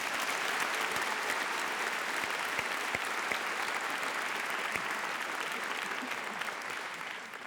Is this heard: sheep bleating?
no